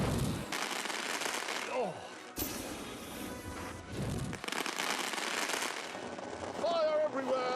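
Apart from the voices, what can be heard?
fireworks exploding in The Grand Tour Game video game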